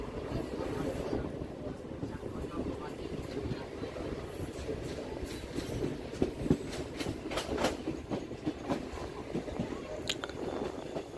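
A Hasnabad local train running through rural West Bengal, heard from inside as a steady low rumble with a rhythmic clatter of wheels over rail joints and occasional sharper clicks, fairly faint throughout.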